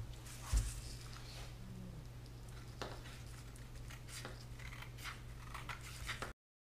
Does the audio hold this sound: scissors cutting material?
yes